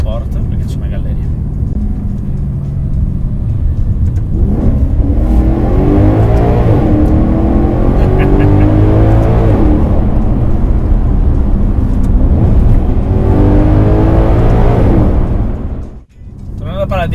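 A Maserati GranTurismo Sport's V8 in Sport mode revs hard through a tunnel, climbing through gears in repeated rising sweeps that swell loud and echo, then cut off abruptly near the end.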